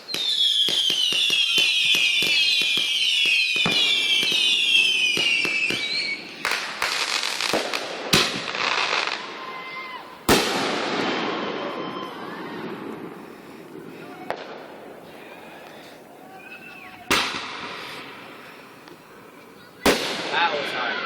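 Consumer fireworks exploding outdoors, a crackling shower of bursts followed by sharp, loud bangs spaced several seconds apart, each trailing off in echoing crackle, with people talking and cheering between the blasts.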